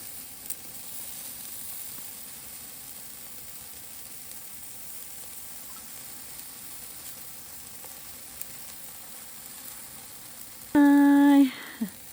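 Chicken barbecue sizzles on an outdoor grill at a New Year cookout in Norway, with a soft steady hiss through most of the clip before a brief loud tonal beep near the end.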